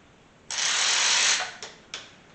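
Ratcheting socket wrench working on the oil pan bolts of a 1981 Chevy C10 squarebody pickup: one long buzzing ratchet run followed by two short clicks, close and clear with no talking.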